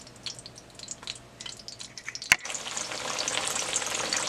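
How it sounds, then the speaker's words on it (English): Oil sizzling and crackling steadily in a pan over medium heat as cornmeal fritters fry, starting quieter with scattered pops, then a sharp clatter before the frying grows louder and denser. "some oil that I put in my pan and I'm gonna fry it."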